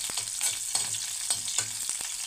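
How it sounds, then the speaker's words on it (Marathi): Curry leaves and slit green chillies fry in hot oil with a bright, crackling sizzle. Spoon stirs and taps punctuate the sizzle in a loose rhythm, close up and with no talking. "मिरची इथे आपल्याला थोडीशी तेलामध्ये तळू द्यायची"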